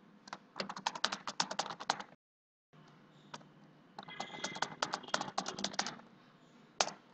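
Rapid keystrokes on a computer keyboard come in bursts of fast clicking, with a short silent pause and a lone final tap, close and fairly quiet.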